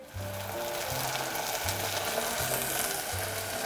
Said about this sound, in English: So now I'm gonna deglaze it with white wine.